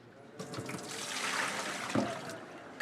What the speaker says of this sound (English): I'm worried that that bird might overflow my pot, so I'm gonna spill off a little of the water